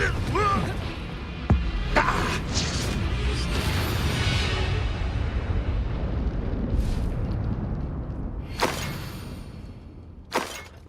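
In the Hogwarts Legacy video game, a Confringo blasting spell erupts into booming, shattering explosions during a wizard duel, with sharp bursts near the start and again toward the end over a rumbling bed of game sound.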